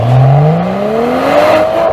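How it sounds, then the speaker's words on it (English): A Mercedes-AMG GLC 53 with its 3.0L inline-six revs up, the engine note climbing smoothly and loudly in pitch over two seconds. "deep 6-cylinder sound, instant response, and the adrenaline that's been missing for years"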